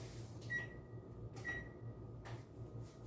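Two short electronic beeps from an oven control panel being set to preheat at 350 degrees, about a second apart, clear against a quiet kitchen hum, followed by a soft click.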